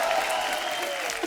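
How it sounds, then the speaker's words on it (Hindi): Enthusiastic studio audience applause on a comedy talk show greeting the star cast, a brief burst of steady, loud clapping. "एक बार जोरदार तालियां द फेम गेम की पूरी स्टार कास्ट के लिए।"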